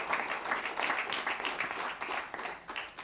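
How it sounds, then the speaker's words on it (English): An awards ceremony audience claps in a short burst of applause for a youth climate adaptation winner, moderately faint and uneven, with no voices over it. "So let's give him a deserved round of applause."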